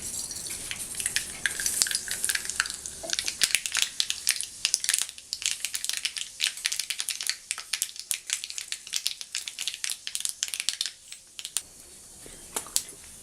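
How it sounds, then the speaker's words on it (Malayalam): Mustard seeds in hot vegetable oil crackle and pop in a dense, irregular burst of sharp snaps over a bed of sizzle, loud and close, easing slightly toward the end, with no talking. "ആ ചൂടായ ഓയിലിലേക്ക് കുറച്ച് കടുകിടാം."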